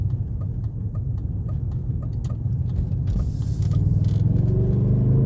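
A BMW E31 drives steadily in second gear on the road, its engine a low droning rumble with cabin noise that swells slightly louder toward the end.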